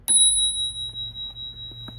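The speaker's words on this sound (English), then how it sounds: "There is my bell." A small bell on a compact bicycle is struck once, giving a bright ping that rings on with a long clear decay, close and fairly loud, with light handling noise underneath.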